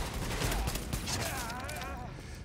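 Rapid automatic AK rifle fire in The Division, a dense volley of cracking shots close up that trails off with ringing echoes near the end.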